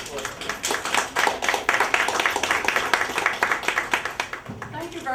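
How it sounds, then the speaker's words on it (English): An audience at an NAACP Mid-Manhattan Branch meeting applauds to welcome a speaker, a loud burst of clapping hands that swells and then tapers, with voices mixed in underneath. "Will you welcome her with a round of applause?"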